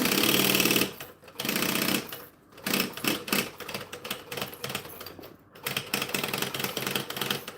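A sewing machine stitching fabric, close up, running in quick rattling bursts separated by short stops as the work is repositioned.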